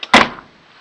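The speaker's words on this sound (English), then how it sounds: "the door bottom frames are pretty poor, but they are still opening and closing" A single loud metallic clunk of a Land Rover 110 hardtop door with poor bottom frames shutting close to the microphone, followed by a short fading rattle and then near silence.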